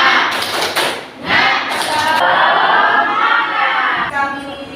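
A school class performs a rhythmic clapping chant in a classroom, with short bursts of clapping alternating with voices chanting together, then trailing off as a single voice carries on.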